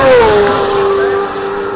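A racing sidecar outfit pulls away steadily from the start line at the Isle of Man TT on Bray Hill during practice, its engine loud and close, the note dropping as it goes, then fading slightly.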